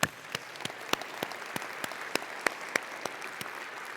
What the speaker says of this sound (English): Let's give our Columbus Chamber Board of Directors a round of applause.